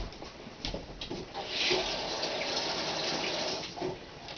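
Potatoes are rinsed under a running kitchen tap, a steady close stream of water splashing over them with small shifts in flow, loud and continuous with no talk.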